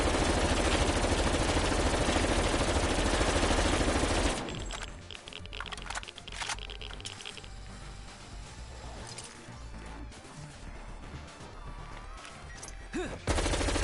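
Video game gunfire: a dense, loud sustained burst of automatic fire for several seconds, then scattered shots and clicks that end in a final crack.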